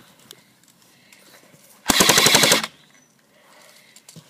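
Jing Gong MP5SD6 airsoft gun firing a short full-auto burst, under a second of loud, rapid, evenly spaced clacking shots set against quiet room background.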